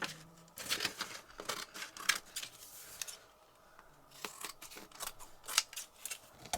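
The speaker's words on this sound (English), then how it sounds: "I'm going to cut around it with my big scissors" Scissors snip repeatedly through paper card in short, uneven bursts of crisp cutting, close by with brief pauses between cuts.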